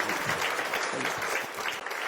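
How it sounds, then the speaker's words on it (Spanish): Applause from a church congregation fills the space, a dense, steady wash of many hands clapping at close range with no pause. "damos un aplauso al Señor"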